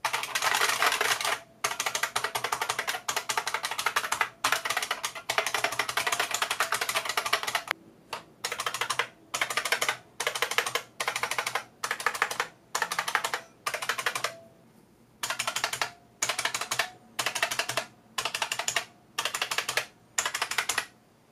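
Continuous clicky typing on IBM Model M mechanical keyboards, close up, first in one long unbroken run, then in short bursts separated by brief pauses.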